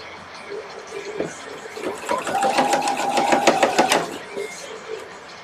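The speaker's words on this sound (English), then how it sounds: "Try not to get my needles or my pins stuck in the machine." A sewing machine runs in a fast, steady whir for a couple of seconds as it stitches close to a folded fabric edge on a Victorian evening dress, with a few slower stitches and handling noises before it.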